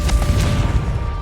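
The Confringo blasting spell in Hogwarts Legacy goes off as a short, loud explosive burst with a heavy low boom and crackling debris, brief and close.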